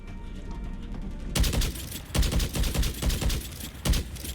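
Full-auto fire from a Javelin rifle in Mass Effect 3 during a cutscene. A quiet stretch gives way to loud, dense, rapid bursts of shots that keep going to the end.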